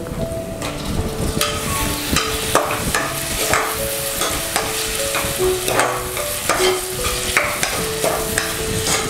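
Tomatoes fry in a pan for a Kerala-style chicken pidi dish, giving a steady close sizzle broken by repeated scraping stirs of a spoon against the pan, with no talking.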